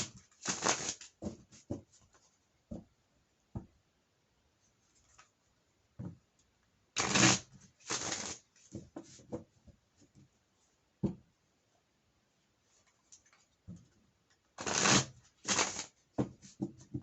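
Tarot cards being shuffled by hand in a quiet room, short crisp riffles and slaps that come in separate bursts with pauses between, close and fairly soft.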